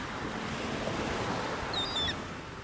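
Sea waves washing on the shore in a steady, broad rushing wash with wind noise, and a few faint high bird calls near the end, no talk.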